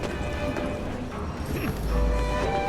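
Horse galloping in the video game Assassin's Creed Syndicate, rapid rhythmic hoof clip-clops close by with a brief whinny and a swelling low rumble near the end.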